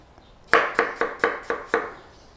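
A knife chops apples for an apple pie on a board: six evenly spaced, crisp thunks in a steady rhythm, close and clear with nothing else around them.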